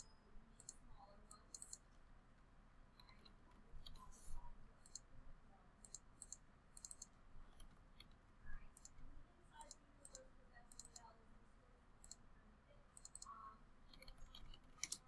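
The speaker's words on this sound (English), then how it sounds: "again by double clicking" A computer mouse gives sharp, close clicks while an editor works in Adobe Photoshop. Quick double clicks and single clicks come in scattered bursts over faint room noise, and nobody speaks.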